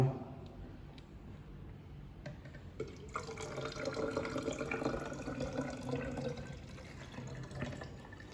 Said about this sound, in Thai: ให้เรานำสารที่เราผสมได้นั้น เทลงใส่ลงในกระบอกตวง